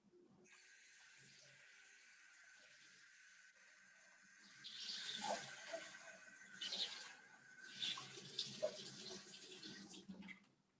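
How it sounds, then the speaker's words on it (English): Water dumped into a sink during a watercolor painting class, a rushing, splashing pour that swells after a few seconds of quiet hiss and surges in uneven waves before fading out, with no talking. "dump the water"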